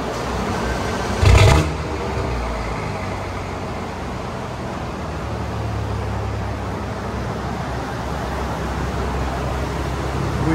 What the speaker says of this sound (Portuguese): Start Roar, que é tipo um ronco de início